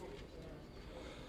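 Pigeons perched after a pigeon-flying contest coo softly and low, the faint murmuring calls sitting under a murmur of nearby voices and background noise.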